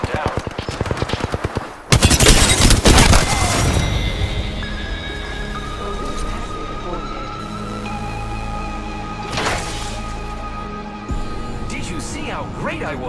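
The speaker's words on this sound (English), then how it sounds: "The enemies are shooting." Enemy gunfire in Apex Legends opens with a rapid burst of automatic shots and a loud volley. Sustained tones and scattered later shots follow, with voices talking over part of it.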